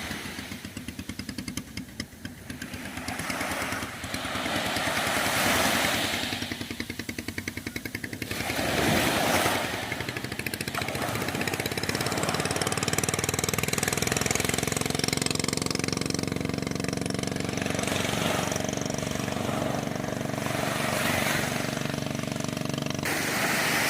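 A fishing boat engine at Pilar, Bauang, La Union starts and runs steadily as the boat departs, a loud continuous motor drone with a few bursts early on and no talk over it.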